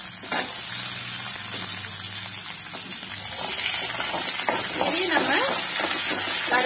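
Small shallots and garlic sizzle and hiss steadily while sautéing in oil for a chutney, a close and continuous sizzle heard under a person talking.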